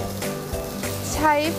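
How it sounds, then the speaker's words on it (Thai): Oil sizzles steadily in a hot pan, heating for salmon kebabs, a constant hiss running under a woman's speech in Thai. "ถ้าเกิดมีเสียงจีจีอย่างนี้แสดงว่าได้"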